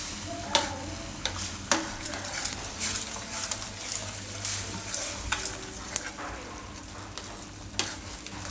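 Repeated scraping and tapping of a spoon stirring boiled potato pieces into a sizzling mixture in a pan, the strokes coming in an irregular rhythm over a steady low hiss.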